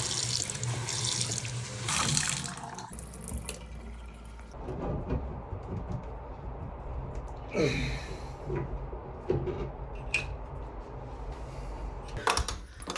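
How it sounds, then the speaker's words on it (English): Water gushes steadily from open apartment faucets, a continuous rushing splash with a few louder bursts and shifts in flow as air is purged from the pipes. "All the faucets are open"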